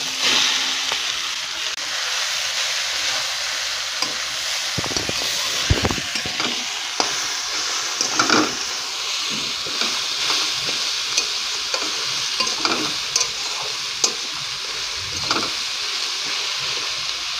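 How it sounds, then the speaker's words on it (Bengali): Grated bottle gourd with a little ginger frying in a pan, a steady close sizzle and hiss with repeated scraping stirs and clinks of the utensil throughout, no talking. "একটু আদা দিয়ে দেবো, লাউটা ছেড়ে দেবো।"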